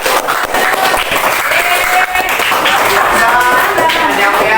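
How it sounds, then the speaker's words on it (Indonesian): A school class applauds the first group after an Islamic religious education lesson, a loud burst of mixed clapping with scattered taps and some cheering, voices chattering through it. "Tepuk tangan untuk kelompok yang pertama."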